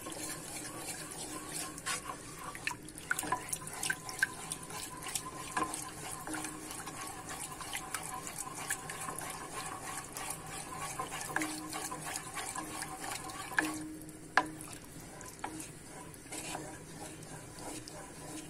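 Cold water poured into a pot of simmering tarhana during cooking, a steady pouring and splashing wash that runs throughout, with brief speech over it and a couple of clinks near the end.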